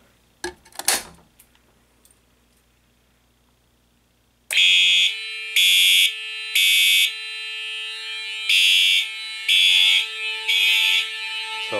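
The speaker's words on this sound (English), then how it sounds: "the Simplex local alarm T-bar" Simplex fire alarm sounding in coded pattern during a system test: loud electronic horn bursts in groups of three, then a short pause and another group, after a few faint handling clicks.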